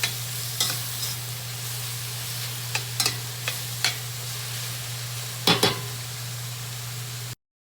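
Spinach wilting in a hot pan gives a soft, steady sizzle, punctuated by several sharp scrapes and clacks of a utensil stirring it, close and without speech before cutting to silence.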